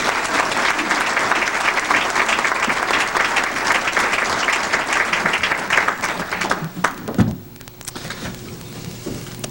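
A university lecture audience applauds to welcome a professor to the podium before a Holocaust legacy talk, steady full-room clapping that thins and fades near the end.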